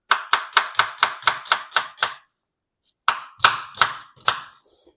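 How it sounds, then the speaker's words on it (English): Rapid, evenly spaced knife chops through onions on a cutting board, about nine quick strikes, a pause, then a few more near and crisp, with no talking. "I will also use all the onions before I do anything, because then it's gonna be very easy cutting them"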